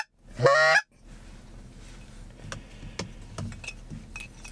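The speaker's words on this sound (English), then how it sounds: "This year it's my goose call." A handmade goose call gives one loud, sharp honk near the start, followed by quiet ambient background with faint clicks and rustling.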